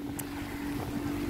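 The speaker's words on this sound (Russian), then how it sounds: "Еще и мотор лодки есть" A boat motor drones steadily beneath heavy, gusting wind buffeting the microphone on the water off a Watamu beach in Kenya, loud and continuous throughout.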